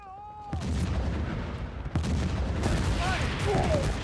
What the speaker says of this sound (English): I shot him with my little puny pistol!